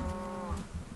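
A single close cow moo from the Minecraft video game, a short, loud, tonal lowing call lasting about a second with no talk over it.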